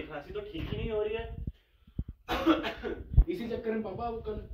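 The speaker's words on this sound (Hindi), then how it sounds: "अरे मेरी खांसी तो ठीक ही नहीं हो रही है" A couple of short, sharp coughs sit between stretches of talking, close to the mic.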